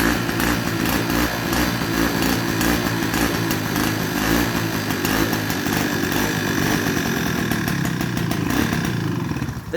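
A Peugeot 103 moped's small two-stroke engine idling, a loud, buzzing, steady rattle held close for the whole stretch with no talk, dipping slightly at the very end.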